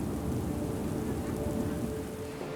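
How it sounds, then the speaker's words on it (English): Steady heavy rain, heard from inside a plane taxiing down an airstrip in fog at Reykjavik Airport, a dense continuous hiss with a low rumble underneath. "we're on the ground, taxiing down the airstrip in the fog and rain."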